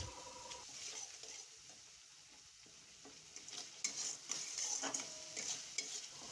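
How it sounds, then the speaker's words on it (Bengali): Spices such as turmeric, salt and Kashmiri chilli powder are stirred and fried in a pan for a mung dal dish, with a steady close sizzle and scraping stir strokes that grow louder toward the end. "মশলাটাকে ভালো করে নাড়াচাড়া করে আমি কষিয়ে নেব"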